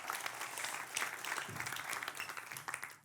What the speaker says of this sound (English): So a big round of applause for Eduard.